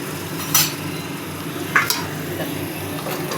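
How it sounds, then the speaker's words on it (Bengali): Chicken frying in a pan, a steady close sizzle broken by a couple of scraping stirs of the spoon against the metal. "এখন আরও 10 মিনিট ভাজবো।"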